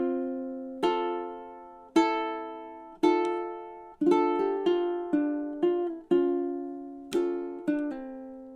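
A ukulele plays two measures of a ballad, with about ten clearly plucked chords and single notes ringing out one after another at a slow, steady pace, close and alone with no voice.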